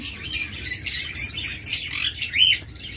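A pair of lutino opaline pet birds chirps in quick, bright bursts, repeated tweets packed closely together at close range with no pauses longer than a moment.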